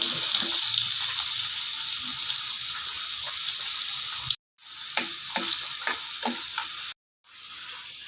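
Desi garlic sizzles and crackles steadily in hot oil while frying until golden and crunchy, with stirring scrapes throughout and two brief silent gaps.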